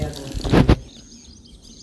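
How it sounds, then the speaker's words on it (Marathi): A newly fitted household water valve on a tap is opened and shut, giving a short burst of rushing water that cuts off abruptly, leaving a quiet room. "ते वॉल आता पहा मित्रांनो बंद होत आहे. चालू होत आहे आता बंद होत आहे पद्धतशीर."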